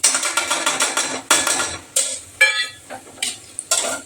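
Spoon stirring spices into onions frying in a pan, a run of quick rhythmic scrapes and clinks at close range, then separate louder knocks with gentle sizzling underneath, no talk.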